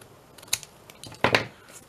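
Scissors snip through scrap paper in a few short, close cuts, with quick crisp blade sounds clustered around a couple of bursts.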